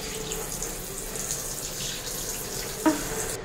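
Water pouring steadily in a dental setting, a continuous close splashing stream like a running tap, with a brief knock near the end.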